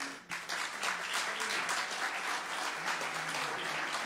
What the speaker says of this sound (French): Et donc, vous pouvez vous applaudir aussi.